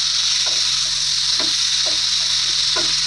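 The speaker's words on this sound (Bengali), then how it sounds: "এবারে এর মধ্যে জল দিয়ে দেবো।" Cauliflower and potato frying in a pan with water just added, producing a loud, continuous sizzle and hiss with a few soft bubbling pops, close up and without any voices.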